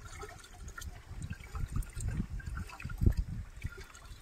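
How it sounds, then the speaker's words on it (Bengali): Rice is washed by hand in water in a home kitchen, producing soft, intermittent sloshing and trickling splashes that are close and fairly quiet, with no talking. "চালটা ধুয়ে নিলাম"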